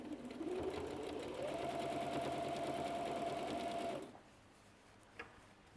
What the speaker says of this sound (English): So I can then drop the foot and stitch along here.